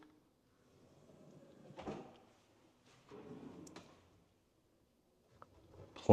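A kitchen spice drawer in a luxury Texas home slides open and shut, two soft rolling strokes with a light knock at the end, quiet and near, with no talking over them.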